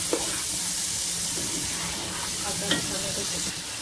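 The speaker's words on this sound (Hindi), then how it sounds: "तो इसको अच्छे तरीके से भून लेते हैं थोड़ा सा" Tomato and green chilli frying in a pan, a steady soft sizzle with a few light scrapes and clinks of a spoon stirring, close and continuous without any talking.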